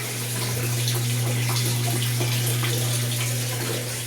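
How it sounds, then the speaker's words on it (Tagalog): Water gushes steadily into an automatic washing machine tub, a loud close splashing rush with a low motor hum underneath, continuous throughout. "Panumin muna natin yung tubig."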